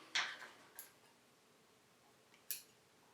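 Two quick, faint snips of small scissors cutting thread during tying of a small foam frog fly, spaced a couple of seconds apart in a quiet room.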